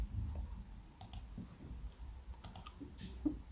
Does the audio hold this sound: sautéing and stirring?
no